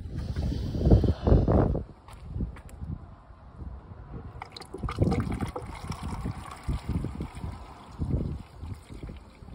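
Distilled water poured into a 2017 Honda Ridgeline during maintenance, gurgling and splashing in uneven bursts, close and moderately loud, with a rattle of handling noise partway through.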